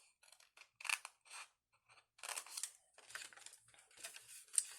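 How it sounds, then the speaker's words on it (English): Scissors snip through paper while a Christmas box ornament is trimmed, giving a series of short, close, crisp cuts in irregular bursts with brief pauses between. "here we're going to cut this square here off."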